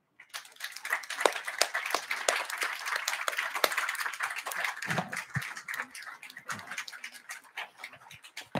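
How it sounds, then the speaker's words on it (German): Applause from an audience at a startup pitch event, with sharp individual claps building into steady clapping, then thinning out toward the end, with a few faint background sounds. "Einen fulminanten Applaus bitte"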